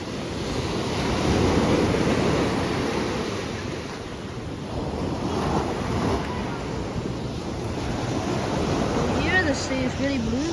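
Sea waves wash onto a beach in a continuous broad roar, with wind buffeting the microphone throughout and no clear voices.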